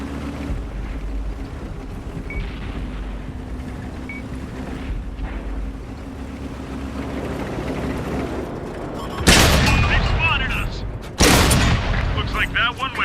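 Tank cannon fire in World of Tanks, an Xbox tank game with the SARL 42: two loud sharp blasts late on, each followed by a ringing decay, after a long stretch of low engine rumble and game noise.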